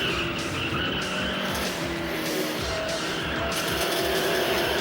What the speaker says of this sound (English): crash the car there.